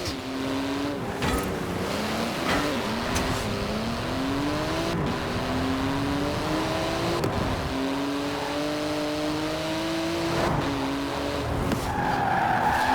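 A Porsche GT2 RS skids with long, wavering tire squeals that rise and fall over a steady engine drone, each slide running several seconds, loud and close throughout.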